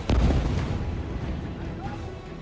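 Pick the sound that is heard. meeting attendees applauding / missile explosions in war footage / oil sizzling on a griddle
missile explosions in war footage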